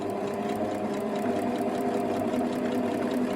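Close, continuous whirring of a sewing machine stitching down a fabric bunting flag, steady and even throughout with no talking.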